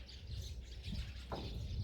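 Birds chirp and tweet in short, scattered calls from within a tree in late winter, over a steady low background rumble, fairly faint and without any talking.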